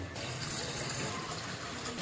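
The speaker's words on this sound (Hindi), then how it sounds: "अभी पानी डाल दिया है" Water poured into a cooking pot for village-style sweet dalia, a close, steady rushing splash that runs without a break through the whole short clip.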